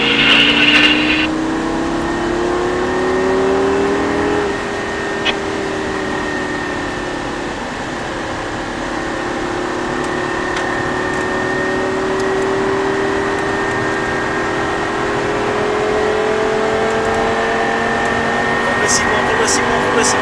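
A Lamborghini on a race track drones steadily at full throttle, its engine note sliding up through the gears, with wind and cabin noise around it and a voice talking over the sound inside the car.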